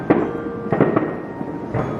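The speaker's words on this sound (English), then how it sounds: "somebody shooting fireworks for Thanksgiving" Fireworks going off outdoors on Thanksgiving, a few separate pops and bangs heard from a distance, scattered irregularly and moderately loud.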